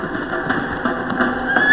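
A wild Mustang on the Great Plains gives a short, close whinny that rises in pitch near the end over a steady background.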